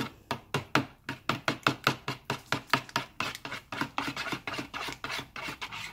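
Muffin batter flavored with salted caramel extract being mixed in a bowl, brisk even strokes at a quick steady beat, close and clear, settling into a denser continuous rubbing toward the end.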